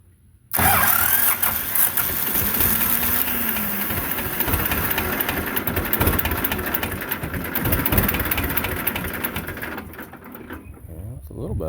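A Belarus 250 tractor with a fuel delivery problem cranks and catches, its engine running loud and rough with a mid-pitched clatter for several seconds before fading near the end, with some talk mixed in.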